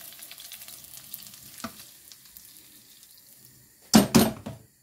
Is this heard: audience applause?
no